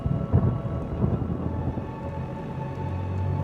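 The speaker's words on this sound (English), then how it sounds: "he heard that rumble of thunder" Thunder rolls in a Loki episode scene: a deep, loud rumble with a few heavier swells, settling into a continuous low growl alongside rain-like hiss.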